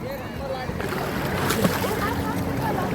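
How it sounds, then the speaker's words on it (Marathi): Strong ocean waves surge and break close to the shore at a beach, a steady roaring wash with wind buffeting the microphone and a swell building midway, while people speak nearby. "लाटा पण खूप जवळ खूप जोरात आहे"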